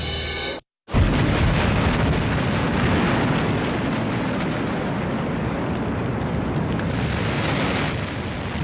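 A burning railroad tank car loaded with supercooled liquid propane explodes in a huge blast, a sudden deafening roar that swells instantly and rumbles on continuously, dense and overwhelming, after a brief moment of silence.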